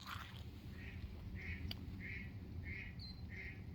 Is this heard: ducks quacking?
yes